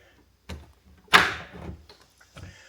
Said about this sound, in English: Dutch door.